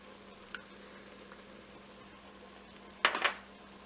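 Mushrooms fry in butter in a pan, giving a soft continuous sizzle with a brief clink early on and a louder burst of stirring and crackling near the end, no speech.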